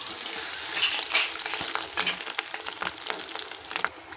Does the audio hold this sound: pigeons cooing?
no